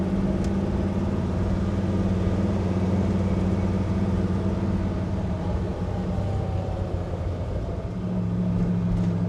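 A 1965 Plymouth Fury with a 383 high-performance engine and four-speed rumbles steadily while driving through an S-bend, a constant low engine drone with a slight dip near the end.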